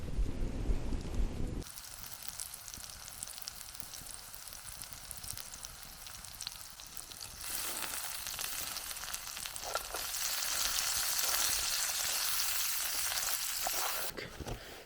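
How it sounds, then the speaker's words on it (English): Onions fry and sizzle in a pan while cooking at a campsite, a steady hiss that swells louder in the second half, with light wind noise and no speech. "I'll start browning off those onions and then we'll keep going with the rest."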